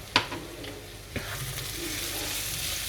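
Seasoned food cooking in a pan is stirred with a couple of sharp scrapes near the start, followed by a soft, continuous sizzle.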